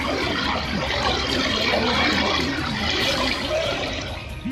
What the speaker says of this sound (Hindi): पानी की रफ्तार ही नहीं, उसकी आवाज भी डरा रही है।